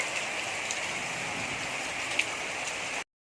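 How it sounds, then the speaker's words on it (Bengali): Heavy rain pours down on a kitchen in an even, unbroken roar of drops, steady throughout before cutting off abruptly. "আজ এখানে আমাদের প্রচুর বৃষ্টি হচ্ছে"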